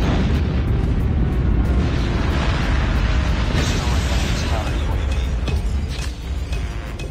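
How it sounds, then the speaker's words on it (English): Enemy airstrike explosions in a Call of Duty-style shooter land as loud, dense blasts and rumbling booms that merge into a continuous, near roar, easing slightly toward the end. "Enemy airstrike incoming."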